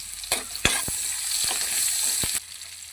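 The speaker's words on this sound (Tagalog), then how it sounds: "Bigisa na tayo guys." Shark meat and aromatics sauté in a hot pan for a Filipino coconut-milk shark dish, a steady close sizzle broken by a few sharp clacks of the spatula stirring.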